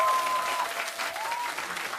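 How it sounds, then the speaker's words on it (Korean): Applause from a live audience at a political talk-show public broadcast recording, a steady wash of clapping lasting the whole stretch at moderate level, with a faint tonal hum underneath. "마음에 드시면 박수 한번 해주시기"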